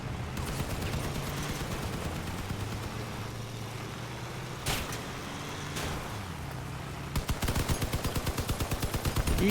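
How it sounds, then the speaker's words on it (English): Machine gun fire in the vehicle combat game Crossout, with a steady engine drone for most of the stretch, a couple of sharp bangs midway, then a fast rattling burst of rapid shots at the end. "Eat machine gun!"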